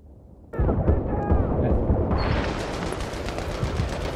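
Heavy gunfire erupts in a Battlefield 3 tournament match on Tehran Highway, with a sudden loud burst of dense automatic fire and explosive rumble that rolls on continuously, and voices murmur faintly underneath.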